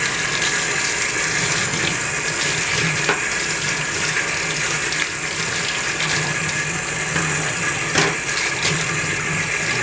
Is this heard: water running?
yes